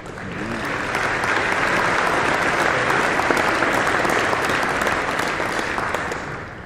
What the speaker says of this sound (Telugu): కాబట్టి మనం చప్పట్ల కొట్టి వాళ్ళిద్దరిని ఇక్కడికి ఆహ్వానిద్దాం.